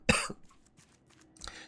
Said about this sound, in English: Today is one of those days where the cough is like really bad.